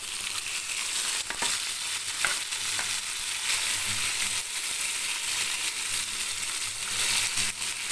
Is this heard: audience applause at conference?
no